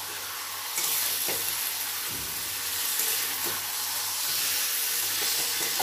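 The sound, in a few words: chicken frying on high flame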